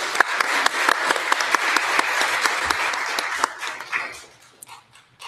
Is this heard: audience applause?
yes